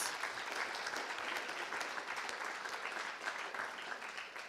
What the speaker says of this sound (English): Give a great round of applause for teachers.